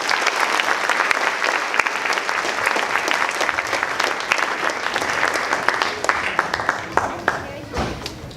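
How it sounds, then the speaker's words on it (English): Sustained audience applause at a karate show, dense and loud with sharp individual claps standing out, a voice briefly audible before it thins near the end. "Let's take a bow and give them a big round of applause."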